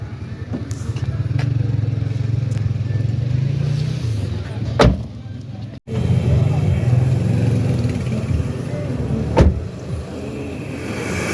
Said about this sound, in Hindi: हम जी गाड़ी में बैठते हैं।